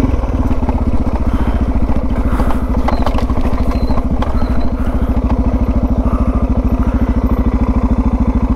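Suzuki DR650 motorcycle ridden over a rough, slippery track, its single-cylinder engine thumping in a steady, close, loud drone with faint clatter from the bike throughout.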